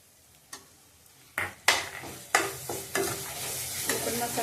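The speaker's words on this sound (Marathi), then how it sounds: "आपण मसाले चांगले तेलात आपण अर्धा सेकंद चांगले भाजून घेऊया।" Ghati masala, turmeric and salt roasting in hot oil for chicken sukka, with a few sharp clatters of stirring at the pan over a steady close sizzle.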